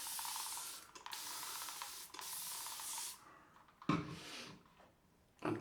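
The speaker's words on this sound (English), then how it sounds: "then I'm going to just spray onto the face" Short bursts of water sprayed onto a face during a wet shave with an Arko shave stick, three hissing sprays in a row, then a brief rustle and a fainter spritz, close and quiet.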